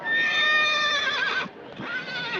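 Horse neighing, a loud drawn-out whinny with a shaky falling pitch, then a brief dip and a second shorter whinny, close and alone without talk.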